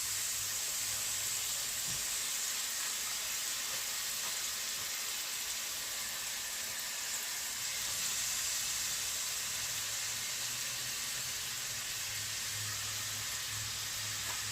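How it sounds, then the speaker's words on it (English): Spaghetti squash sizzles faintly in sage brown butter, a soft, even hiss that holds steady throughout with a low hum underneath and no talking. "It's going to go right into the brown butter."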